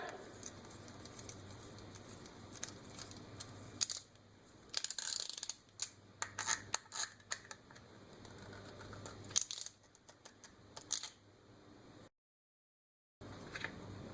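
Power sanding arbors are tightened onto threads coated with thread locker, giving quiet clicking, ratcheting and metallic clinks in short irregular bursts, with a brief silent gap near the end.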